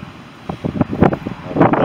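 Gusty wind over a meadow of red poppies buffets the microphone in uneven, rumbling bursts that grow stronger toward the end.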